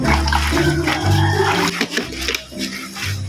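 Laundry being hand-washed and rinsed in water, a continuous close splashing and sloshing with rubbing noises and a low hum, and a voice faintly audible underneath.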